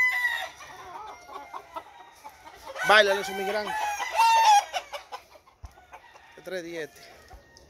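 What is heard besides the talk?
chickens and roosters clucking and crowing at a cockfighting gallery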